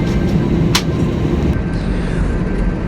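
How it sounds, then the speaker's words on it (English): Hongkong Airlines A320 taxiing toward the runway at night, heard from inside the cabin as a steady low engine and rolling rumble with a constant high whine, one brief hiss partway through. "So we are taxiing to the runway still"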